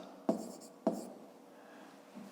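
A pen writing out a fifth-grade maths answer on paper, two sharp taps followed by short scratching strokes, close and alone.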